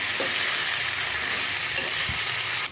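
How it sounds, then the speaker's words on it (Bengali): Mixed vegetables for shukto fry in a pan with a steady, dense sizzle throughout, joined by occasional stirring scrapes and knocks. "সব সবজি এর মধ্যে দিয়ে দেবো। নাড়াচাড়া করব।"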